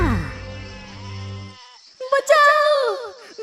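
A sheep in an animated Hindi children's story gives a loud, drawn-out quavering bleat, followed closely by a voice speaking.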